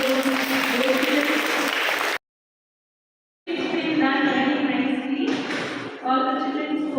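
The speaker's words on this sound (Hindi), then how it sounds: "इनको भी आप बहुत जोरदार तालियां करिए" An audience applauds children at a school Hindi recitation event. The clapping is dense and mixed with voices, then cuts to a brief silence before resuming under talking.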